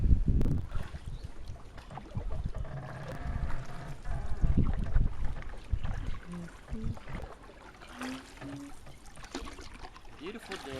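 A homebuilt wa'apa trimaran sailing canoe glides through water near mangroves on a bright day, with steady splashing, gurgling and wind buffeting the microphone throughout.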